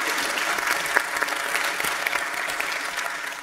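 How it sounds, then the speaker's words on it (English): Steady audience applause fills a panel session at a national defense forum, dense continuous clapping from a large room at even loudness, fading slightly at the end. "I think we should give a round of applause for that as well."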